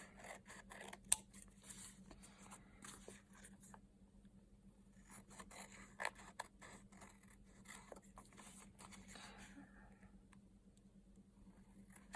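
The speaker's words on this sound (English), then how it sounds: "I'm just going to grab my scissors and I'm just going to clean up the edges here." Scissors trim the edges of large paper rose tags in a quiet indoor craft session, giving a string of soft, close snips and paper rustles with a low steady hum underneath and no talking.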